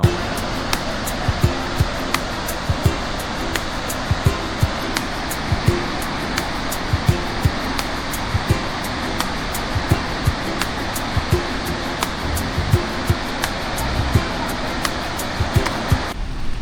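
Magod Falls near Yellapura in Uttara Kannada, Karnataka, sends up a steady, loud roar of falling water that fills the whole stretch, with small clicks recurring throughout and no voices.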